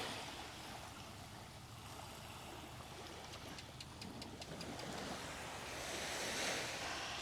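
Sea waves washing onto a Thai shore with wind buffeting the microphone, a steady soft roar of surf that swells slightly toward the end, with no voices.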